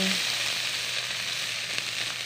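Ginger, garlic and onion fry in a pan with a steady, dense sizzle that stays close and even throughout, with no voices.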